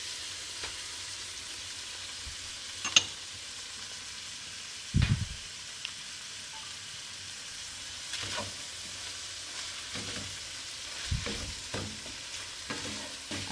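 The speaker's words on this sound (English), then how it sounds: "I'm going to saute this for a couple of minutes." Garlic and fresh grated ginger sautéing with cooked ground beef for Mongolian noodles, a steady sizzle with a few stirring scrapes and knocks of the spatula against the pan, no talking.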